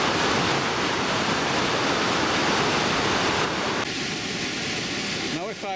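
Powerful river water pours over a stepped weir beside a fish pass, a loud, continuous roar of rushing water that fills the scene up close, steady throughout with only a slight easing near the end.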